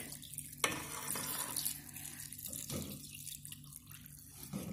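Tap water runs over milkfish (bandeng) as it is rinsed clean in a sink, a steady close splashing stream with a sharp knock near the start and no talking.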